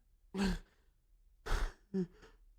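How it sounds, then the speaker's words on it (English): A person yawning while laughing: two drawn-out breathy, voiced exhalations with a quick wheezy burst of laughter after, close to the microphone against a quiet background. "I was yawning and laughing at the same time"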